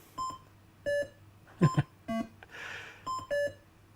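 Atari 2600 Breakout game sounds: a ball bouncing and knocking out bricks, heard as a string of short, clean electronic beeps at varying pitches, spaced irregularly, with one brief buzzy noise burst between them.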